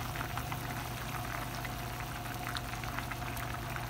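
Pangas fish curry with flat beans simmers steadily in a pot, giving a continuous soft bubbling and crackling hiss over a low hum. It is fairly faint and even throughout, with no voices.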